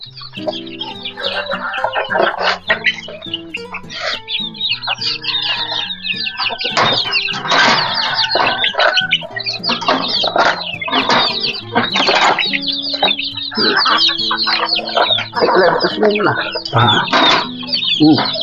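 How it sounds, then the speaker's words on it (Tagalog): Chicks and hens on a rural farm in Batangas, Philippines, cluck and cheep continuously and close by at feeding time, busy overlapping calls with occasional wing flutters, while a person talks over them. "Ang gagawin naman po natin ngayon ay magpakain ng mga sisiw."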